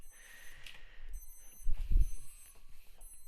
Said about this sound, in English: alarm keeps going off